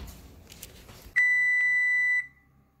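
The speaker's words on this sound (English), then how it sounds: "we're gonna set the timer for 30 minutes" A single steady electronic beep from a kitchen oven timer sounds for about a second as it is set, clear and close after some quiet handling noise.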